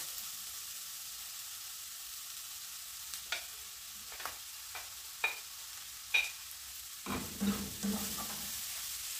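Bell pepper, onion, garlic and dried beef fry in a pan with a quiet, steady sizzle, broken by a series of distinct spoon scrapes and taps that grow louder toward the end.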